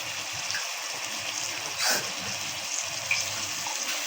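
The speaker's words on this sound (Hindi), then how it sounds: "इसके अंदर हम थोड़ा सा पानी डाल के हिला के इसमें डालेंगे।" Water is poured into a pan of green chili keema, a soft steady trickle and splash with a brief louder gush in the middle.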